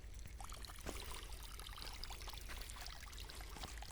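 Water poured onto newly planted coconut plants on a plantation, a faint, steady splashing pour with scattered drips and trickles, distant and alone with no voices.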